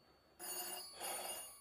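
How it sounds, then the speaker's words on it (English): A telephone bell rings indoors in two trilling bursts with a short gap between, moderately loud and alone. "Oh, phone's ringing now."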